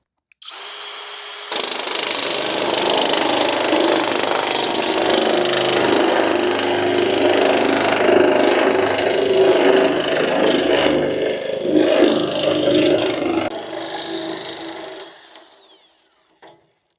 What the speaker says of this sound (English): This metal nibbler is just so simple, so easy to use, and it just does a great job at cutting.